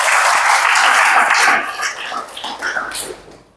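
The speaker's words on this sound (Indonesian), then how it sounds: "Kasih tepuk tangan untuk Tuhan." A church congregation at a sermon claps loudly in a dense burst that thins into scattered claps and fades out over a few seconds.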